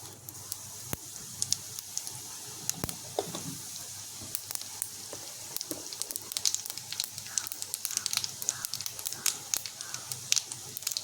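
Whole cumin seeds fry in hot mustard oil in a wok, giving a soft, steady sizzle dotted with sharp little crackles and pops that grow busier toward the end.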